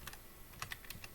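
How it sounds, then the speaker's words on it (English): A computer keyboard is tapped in a short burst of soft, quick keystrokes, close and quiet, entering a web address. "up here in the top, we are going to type in"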